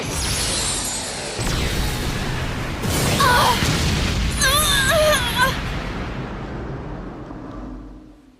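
Beyblade Metal Masters anime special attack, Pegasus's galactic explosion: a loud, sustained roaring burst with whooshing sweeps and shimmering tonal chimes layered in, fading out over several seconds with no speech.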